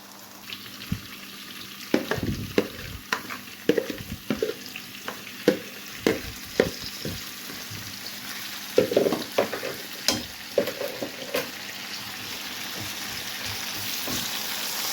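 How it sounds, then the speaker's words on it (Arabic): Spiced zucchini slices fry in reused oil in a pan, a steady sizzle broken by repeated sharp clacks and scrapes of a utensil stirring and turning them, no voices. "نرمي هذه الكورجات القرعه، تبلتها في نفس التوابل، نديرها نطيبها في المقله هذه"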